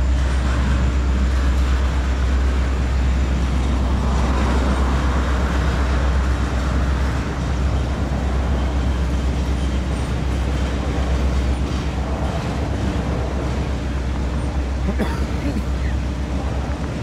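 A Norfolk Southern intermodal freight train rumbles past in Pennsylvania with a deep, continuous low roar and rattling, loud and close, steady throughout with a faint voice mixed in.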